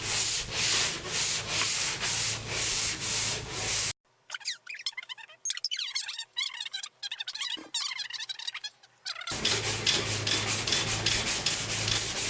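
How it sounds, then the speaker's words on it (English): Hand sanding a Toyota Landcruiser 200 Series bonnet with 120 grit paper on a flat sanding block gives steady, loud, rhythmic rasping strokes. The strokes run for about four seconds, break off into quieter scraping and knocking, then resume near the end. "that's just a 120 grit paper on a flat sanding block"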